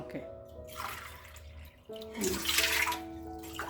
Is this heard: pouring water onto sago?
yes